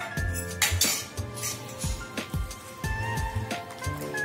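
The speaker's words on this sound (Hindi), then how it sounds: "अब हम फेटे हुए अंडे को जो है इसमें ऐड करेंगे और उसको अच्छे तरीके से मिक्स कर लेना है" Beaten egg is stirred into marinated chicken for Chicken 65 in a bowl, giving repeated clinks and scrapes of a utensil against the dish along with wet squelching, close and rhythmic.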